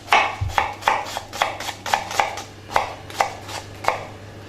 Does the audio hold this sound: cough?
no